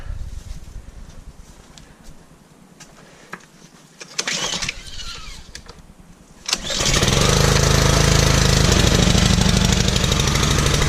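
A pressure washer's small petrol engine, fuel on and choke out, coughs a few times on the pull start, then catches and settles into a loud, steady, close running roar.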